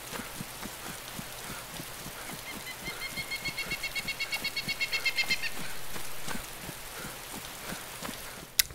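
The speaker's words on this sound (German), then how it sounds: "Kann sein, dass es auch bald das Regnen wieder aufhört." Rain falls in the video game DayZ as a steady broadband patter, with a short run of rhythmic chirping rising in the middle and a sharp click at the end.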